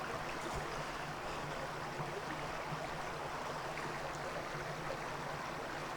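Small creek on a hiking trail with stepping stones, a soft steady babble of flowing water, faint and continuous throughout.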